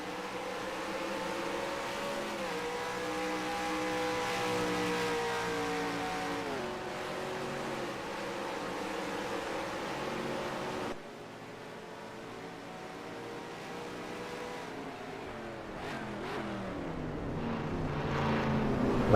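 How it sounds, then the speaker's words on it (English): Race cars in the NASCAR Racing 2003 video game at Infineon Raceway, engines droning and shifting pitch through gears, with a cut partway and a rise in revving near the end. "Lovely driving from McQueen around that hairpin as he carries on"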